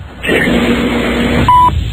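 A phone line hums with a faint tone, then a short, clear electronic beep sounds near the end, loud and close.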